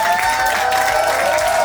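A wedding crowd gives a round of applause, brief steady clapping with a ringing tone and some music or voices mixed underneath.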